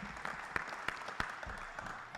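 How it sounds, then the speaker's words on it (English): Audience applause for candidates at a mayoral forum, a short burst of scattered clapping with a few sharp claps standing out and a faint murmur underneath. "Can we give all of our candidates a round of applause for this point?"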